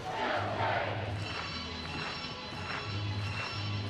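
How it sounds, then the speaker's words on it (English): Enthusiastic crowd at a women's League Cup semi-final football match between Chelsea and West Ham United on a cold February night in London, a distant, steady stadium murmur with swelling cheers and low rumbling chants. "Enthusiastic crowd on a cold February night."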